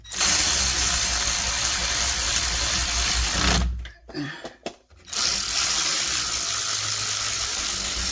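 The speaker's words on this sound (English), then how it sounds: "This little ratchet works good." Ratchet wrench clicking steadily on the rear axle of a Nissan Frontier, loud and close, with a brief pause midway before the rapid ratcheting resumes.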